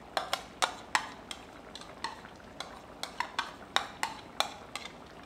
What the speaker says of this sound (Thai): จากนั้นก็ใส่ปลากระป๋องไปได้เลยนะครับใส่น้ำไปด้วยนะครับ